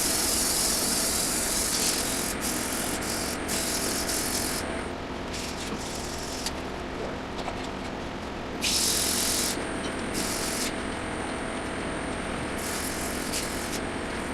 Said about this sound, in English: Once again, we're going to sandpaper now.